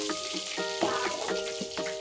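Crab legs and claws frying in hot oil, giving a steady broadband sizzle with periodic bursts of bubbling and spatter, close and alone.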